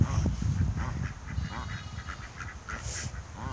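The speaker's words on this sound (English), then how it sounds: "There's my duck." Ducks quacking repeatedly nearby, a loose series of nasal calls over faint outdoor background.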